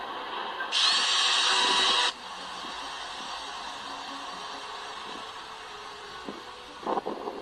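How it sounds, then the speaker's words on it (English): A cordless drill twisting wire whirs loudly for a little over a second, then stops; faint clicks and handling noise follow in a quiet room. "Now that we use the drill to twist the wire"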